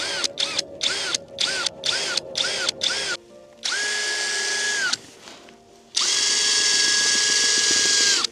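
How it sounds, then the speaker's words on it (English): A power screwdriver drives screws into a hot tent's stove fitting. It opens with a run of short pulsed whirs, then two longer sustained whines, all close and loud with no talking. "Yeah, it's very easy to do with screwdriver, the proper one."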